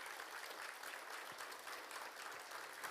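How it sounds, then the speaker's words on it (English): An audience at a public safety awards ceremony claps in a steady, even round of applause, faint and distant throughout. "Could we give them a round of applause"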